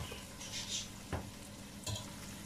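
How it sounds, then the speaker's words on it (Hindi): Turnips are stirred into spinach in a kadai, giving soft wet scrapes and a couple of sharper spoon knocks over a quiet, low bubbling simmer. "तो अब हम ये शलजम जो है वो पालक वाली कढ़ाई के अंदर डाल देंगे।"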